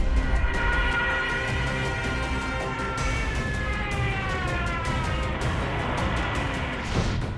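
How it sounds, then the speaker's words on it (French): A shrill wailing siren of a Junkers Ju-87 dive bomber in a diving attack rises and falls over a roaring background, sustained and strident. "les sirènes mécaniques fixées sur le train d'atterrissage non rétractable de l'appareil et produisant un son strident"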